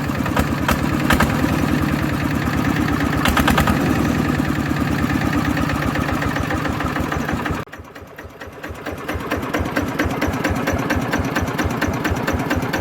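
A Thai-made Nok Fah single-cylinder engine running with a fast, rattling chug, loud and close, dipping briefly in the middle before picking back up to a steady beat.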